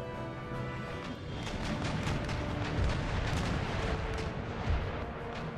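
Ship cannons boom in a naval battle in Empire: Total War, a ragged run of heavy broadside shots and crashes over a continuous battle rumble, some blasts close and loud, others more distant.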